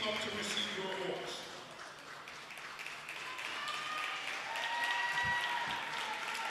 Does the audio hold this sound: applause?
yes